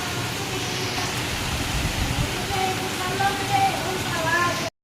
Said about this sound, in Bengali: বৃষ্টিটা দেখতে কি ভালো লাগে দেখো